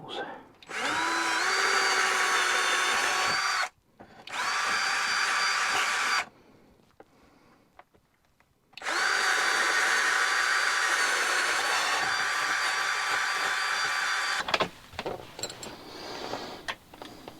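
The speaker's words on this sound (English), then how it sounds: "And drill the other holes." A cordless power drill whirs in several long bursts while drilling holes for fitting a swivel table, its pitch rising as it spins up, with short pauses between runs and some handling noise.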